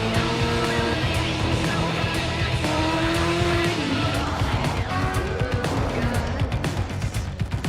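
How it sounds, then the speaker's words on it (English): GMC Hummer EV electric pickup accelerating hard from a standstill, with a loud, steady, rising whine layered with squealing tires that runs unbroken throughout. "the thrill of accelerating 0 to 60 in approximately 3 seconds."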